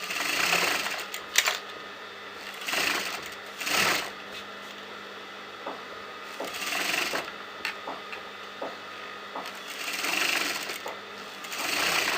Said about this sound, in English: just sew all around, starting from this point, go all around and end till this point